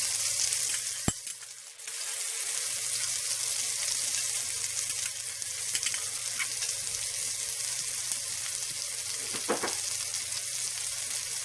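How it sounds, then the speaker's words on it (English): Curry paste and garlic frying in a pot for yellow curry rice, a steady close sizzle with a sharp clink near the start and occasional soft stirring scrapes. "we are adding our curry paste to a pot and letting that heat up for a bit"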